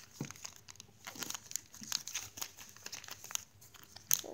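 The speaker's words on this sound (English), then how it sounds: "Just fold it to the left." Origami paper folded by hand into a ninja star, soft close crinkles and creases in irregular bursts, faint and quiet throughout.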